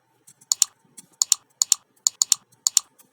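A computer keyboard is typed on in short bursts of crisp, close keystrokes, with brief pauses between clusters and no speech.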